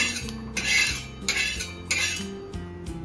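A metal utensil scrapes and clinks against a pan several times, rhythmic close scraping as roasted sesame seeds are scooped out, with no talk.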